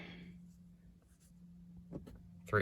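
Pen writing on an oil change service sticker during a Ford Focus oil change: faint, close scratching strokes over a low steady hum, ending with a couple of louder taps.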